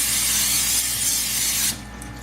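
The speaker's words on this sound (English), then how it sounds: "Now, grease the baking dish with cooking spray." Cooking spray hissing out of a can onto a baking dish in one steady, loud blast of under two seconds that then cuts off.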